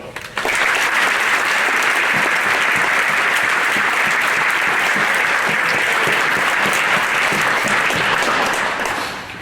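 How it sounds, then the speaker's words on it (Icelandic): A hall audience at the Reykjanesbær athlete of the year ceremony gives the volunteers a long round of applause, a loud, dense and steady clapping that starts abruptly and fades slightly at the end. "vil ég biðja ykkur að gefa öllum sjálfboðaliðunum gott klapp"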